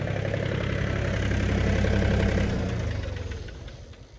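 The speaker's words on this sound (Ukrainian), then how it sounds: "зараз заглушу трактор" An Iseki TA 235 tractor engine idles with a steady low rumble, then winds down and cuts off near the end, leaving a fading rattle.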